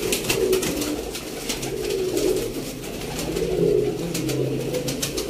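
Pigeons cooing among birds offered for sale in Sialkot, soft repeated low throaty coos rising and falling in waves, with faint bird chatter and background noise around them.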